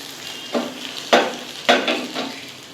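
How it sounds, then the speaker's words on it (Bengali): Whole cumin, dried red chilli and crushed garlic hit hot mustard oil for Bengali ghugni, giving a close, soft frying hiss with several sharper bursts as spices are stirred, no voices. "আমি তেল বসিয়ে দিয়েছি সর্ষের তেল এর মধ্যে আমি গোটা জিরে আর শুকনো লঙ্কা ফোড়ন দিচ্ছি"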